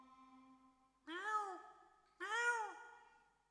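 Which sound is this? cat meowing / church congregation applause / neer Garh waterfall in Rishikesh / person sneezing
cat meowing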